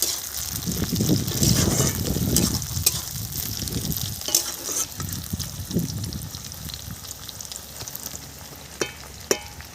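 Chopped tomato hits a pan of fried onions for a mustard-paste fish curry, loud wet sizzling at first that settles into a softer fry, with occasional sharp clicks of a utensil against the pan.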